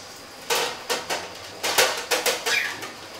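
Pieces of cut cabbage placed one by one onto a metal baking tray for roasting, about eight distinct clattering taps and knocks in an irregular rhythm, close and fairly loud, with no talking.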